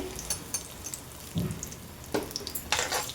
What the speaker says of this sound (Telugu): ఆయిల్ వేడైన తర్వాత శనగపప్పు, మినపప్పు, ఆవాలు, జీలకర్ర వేసుకోవాలండి